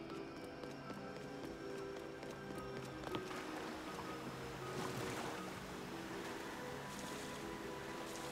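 Steady broadband rush of a waterfall in The Legend of Zelda: Tears of the Kingdom, a continuous roar of falling water that fills the clip without any break.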